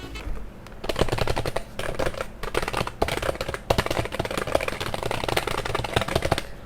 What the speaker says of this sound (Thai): คีย์บอร์ดตัวนี้เดี๋ยวผมให้เพื่อนๆฟังเสียงนะครับ